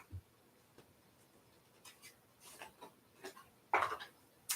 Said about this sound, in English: I'm going to shuffle some cards for you.